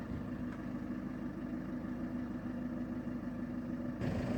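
A 2009 Volkswagen Tiguan with a 2.0 TDI diesel engine idles nearby, a steady low rumble with an even hum and a brief change in tone near the end.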